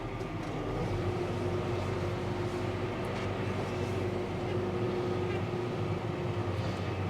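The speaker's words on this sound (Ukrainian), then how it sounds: "Трошечки від'їдемо назад, аби закрити оцю браму." A tractor reverses slowly to close a farm gate, its engine a steady, low, droning rumble that stays even throughout, with no other sounds standing out.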